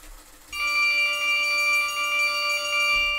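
A vintage Schulmerich carillon console plays 8 and 4 foot Flemish bells together with tremolando, a single held bell tone ringing out bright and sustained with a shimmering pulse, after a brief mechanical click at the start.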